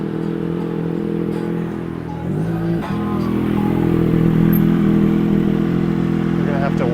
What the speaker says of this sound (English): This motorcycle wants to creep around.